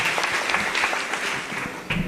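School audience clapping at an Independence Day celebration, a steady wash of many hands applauding continuously at moderate loudness, with a slight swell near the end.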